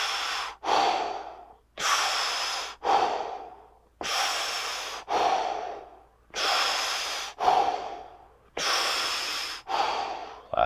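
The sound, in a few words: deep breathing during a yoga stretch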